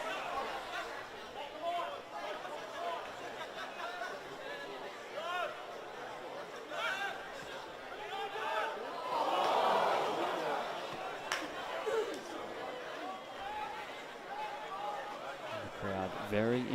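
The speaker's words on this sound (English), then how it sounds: "The crowd very invested tonight." Crowd at a men's NPL semi final football match between Brisbane City and Lions FC, a faint, distant murmur and chatter from the stands that swells briefly midway, under a commentator's voice.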